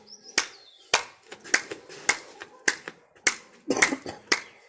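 Sharp, crisp hand claps during a yoga session, about a dozen spaced in a loose steady rhythm at close range, with no talking.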